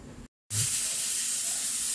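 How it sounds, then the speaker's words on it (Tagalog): A pressure cooker cooking laing hisses out steam in a loud, steady, unbroken rush that starts abruptly after a brief moment of silence. "Tumutunog na yung ating pressure cooker."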